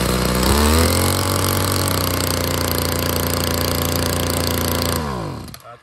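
A Tanaka brush cutter engine, a Japanese-market used unit, runs loud and steady at part throttle with a harsh buzzing drone for about five seconds, then cuts off and winds down to quiet.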